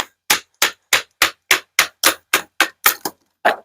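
A knife splits kindling wood through a knot with about eleven sharp, evenly spaced cracking strikes in quick rhythm, close and loud, with a short pause before the last one.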